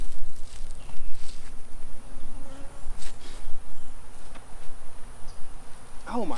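Loud, agitated honey bees buzz close by in swirling waves, rising and falling as they swarm, with no talking.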